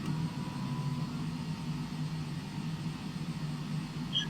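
Small single-engine airplane idling on the ground before taxi, a steady low drone heard from inside, moderately loud and continuous with no voices.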